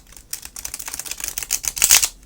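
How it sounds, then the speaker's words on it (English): A large, chunky Ethereal Visions Illuminated tarot deck is shuffled by hand. Rapid crisp card clicks and flutters build to a brisk riffle, close and fairly loud, with no talking. "Now I'm going to try to shuffle this big chunky deck"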